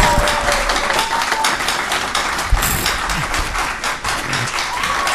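Loud clapping from a group at a council meeting fills the space, a bit uneven with occasional thumps and background murmur.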